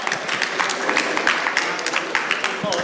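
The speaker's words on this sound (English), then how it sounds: "Big round of applause." An audience at a blockchain and NFT law talk claps in a round of applause, moderately loud and fairly sparse. Individual claps stand out against the rest.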